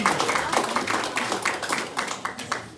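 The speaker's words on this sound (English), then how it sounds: "round of applause for Ian." An audience at a ceilidh claps steadily for a young piano player, a dense, fairly loud round of applause with no break.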